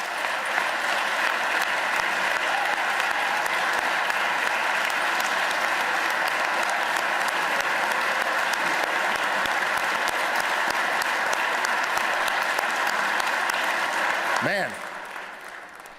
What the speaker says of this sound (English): if applause could vote, we'd have this whole thing done already